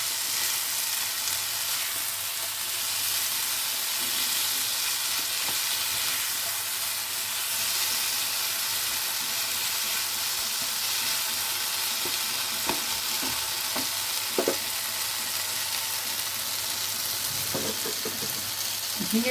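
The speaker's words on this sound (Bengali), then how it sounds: "এগুলো দিয়ে পুরো নাড়াচাড়া করে নেবো খুব ভালো করে" Ridge gourd curry with lentil dumplings fries in a pan, a steady, close sizzle and hiss throughout, broken near the end by a few scraping knocks of the stirring spoon.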